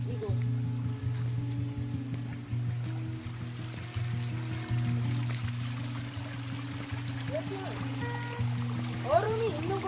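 A mountain stream running beside a frozen ice wall in winter, a continuous soft trickle and flow of water under a steady low hum, with faint scattered rustles.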